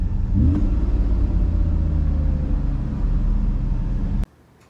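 A 1991 Mercedes 500 SL with the M119 V8 idles high in drive, a steady loud low rumble heard from close by, cutting off abruptly near the end.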